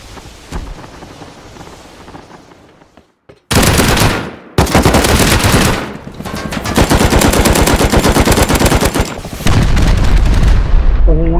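Loud bursts of rapid automatic gunfire in the video game Rust, dense and sustained with short gaps between volleys, alongside heavy booming blasts; no talking.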